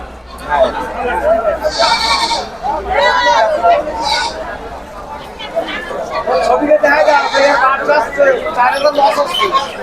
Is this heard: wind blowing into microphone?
no